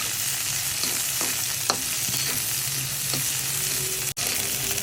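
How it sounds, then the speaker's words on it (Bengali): Ingredients fry in a little oil in a pan for a bharta, a loud continuous sizzle with a few soft stirring taps and a brief dropout near the end. "এখন এই তেলের মধ্যে টেলে নিব প্রথমে কিন্তু আমি এমনি টেলে নিয়েছিলাম এখন তেলের মধ্যে টেলে নিচ্ছি"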